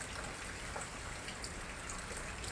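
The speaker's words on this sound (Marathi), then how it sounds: "जा पाऊस पडतो जा. अरे जा, पाऊस पडतोय." Steady rain pours down in a dense, even hiss of drops striking surfaces, continuous and close, with no voices over it.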